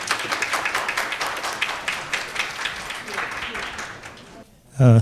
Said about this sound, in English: Can we begin with a round of applause for our panel, or session number 1?